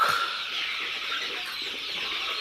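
A flock of young Sonali chickens, about 26 to 27 days old, fills the space with a continuous dense chorus of high peeping and soft clucking, steady and close.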